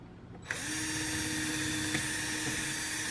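Power drill boring small pilot holes during an RV washer/dryer install: the motor kicks in abruptly and whines steadily at close range, alone with no talk.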